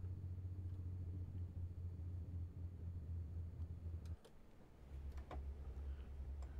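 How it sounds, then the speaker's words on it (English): A semi truck Jake braking in American Truck Simulator, a steady low rumbling engine drone that cuts out abruptly partway through, then resumes with faint ticking sounds. "I can do Jake braking here."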